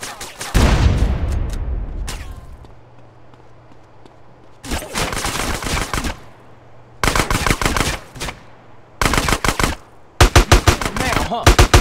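Bursts of automatic gunfire in the video game GTA San Andreas, loud rapid volleys broken by short pauses, with a heavy opening shot and a low hum underneath.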